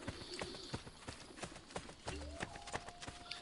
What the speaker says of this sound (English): there's my horse